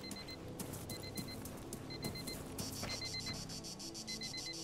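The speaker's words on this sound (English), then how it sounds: "Chuck the alarm clock, and it will start beeping at some point." An alarm clock item thrown in the Arma 3 video game beeps in repeated short pairs of high electronic tones, fairly loud and steady over a busy background of game ambience and movement noise.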